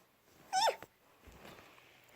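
A pet cat lets out a single short, high meow close by, hiding inside a mattress, followed by faint rustling and handling noises in a quiet room.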